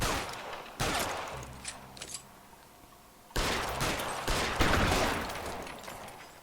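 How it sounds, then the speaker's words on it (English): Gunshots ring out in the detective game L.A. Noire, with a loud burst of shots, a few scattered single cracks and then a longer heavy volley of rapid fire. "I'm just gonna keep shooting."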